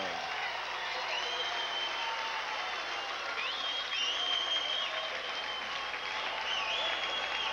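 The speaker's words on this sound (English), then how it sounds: "Michael Nunn getting his usual big greeting from the crowd here in Reseda, California" An arena crowd in Reseda, California applauds and cheers steadily for the ring introduction of undefeated middleweight boxer Michael Nunn, a dense, sustained wash of clapping that swells slightly midway with scattered whistles on top.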